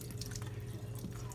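Cooked noodles are rinsed under a running kitchen tap, a steady faint hiss and patter of water continuing throughout with no voices.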